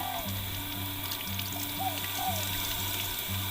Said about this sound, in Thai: นี่เราจะล้างแบบให้น้ำผ่านนะคะพี่น้อง ให้น้ำผ่านแล้วก็เอาใส่ถุงไว้